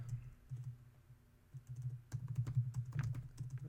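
Typing on a computer keyboard, quiet close clicks in uneven bursts over a low steady hum, growing faster and denser in the second half.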